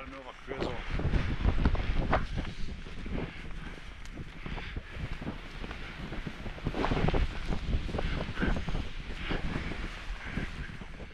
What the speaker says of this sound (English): That wind though, it's blowing a gale again.